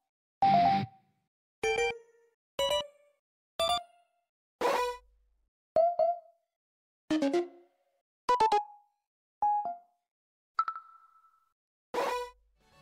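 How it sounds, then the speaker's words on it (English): A series of distinct video game ping notification chimes in the Roblox-style fighting game Phighting, about eleven short tonal pings spaced roughly a second apart, each with its own pitch and timbre, clear and close. "each ping also has their unique sound"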